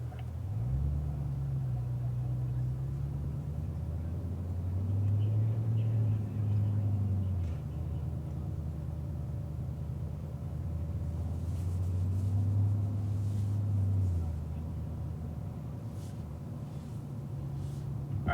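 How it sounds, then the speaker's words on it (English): Cadillac V-Series CTS-V cars roll off on a racetrack, a low engine rumble that rises in two separate swells as they pull away, moderately distant and with no talk. "go ahead and put those cars in gear and we can start rolling"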